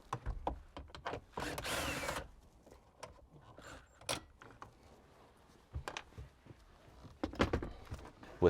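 Power drill spinning out four 10mm bolts holding a radio mounting unit, heard as several short whirring bursts separated by pauses and light clunks of handling, fairly close and moderately loud.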